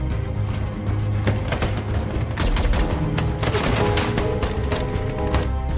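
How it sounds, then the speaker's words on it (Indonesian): Intense gunfire in a shootout from the film American Sniper, rapid overlapping shots and bursts forming a dense, loud, continuous barrage with heavy low rumble throughout. "Lalu terjadilah baku tembak yang sangat epik antara Chris dan teman-temannya melawan para tentara AQI."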